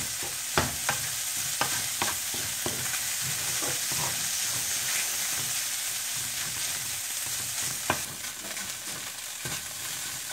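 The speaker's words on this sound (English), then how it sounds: "you just want to pan fry this for like 2 minutes or so, 2 to 3 minutes" Fish pan-frying for a fish pepper dish, a steady broadband sizzle running throughout with scattered sharp spatula scrapes and taps against the pan, the loudest around eight seconds; no talking.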